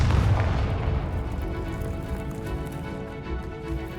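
A Confringo blasting curse explodes in the Hogwarts Legacy game, a loud deep boom right at the start that rolls into a long rumbling tail and slowly fades.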